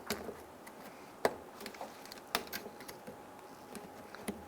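A plastic trim tool pries behind the headlight locking tab of a 2002-2008 Dodge Ram 1500, making light, scattered clicks and ticks, a few of them sharper and louder, over a quiet background.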